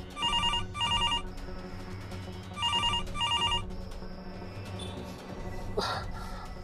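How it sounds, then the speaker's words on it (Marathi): A telephone bell rings in repeated double bursts, two pairs of bright electronic trills separated by a pause, moderately loud inside a quiet room with low background hum. "अरे उचला रे कोणीतरी तो फोन"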